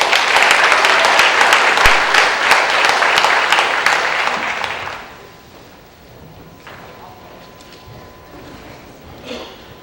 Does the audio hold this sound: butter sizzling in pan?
no